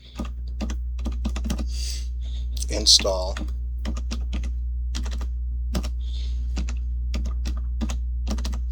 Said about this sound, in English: let me move this so you can see what I'm typing.